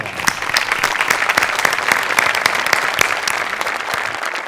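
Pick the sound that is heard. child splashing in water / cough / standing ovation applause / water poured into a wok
standing ovation applause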